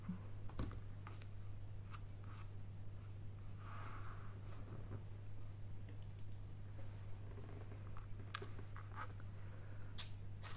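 Small cut of a thin chain for a pin made with Beebeecraft findings: a few sharp clicks of the cutters come through faint and close over a steady low hum. No one talks.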